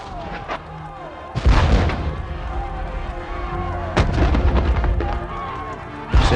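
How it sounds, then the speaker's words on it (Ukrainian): Heavy cannon volleys from Christian defenders' guns boom out one after another during an Ottoman siege, each a loud, deep explosion with a rumbling tail, amid continuing battle noise. "Знову і знову залпи гармат християн відкидали їх назад."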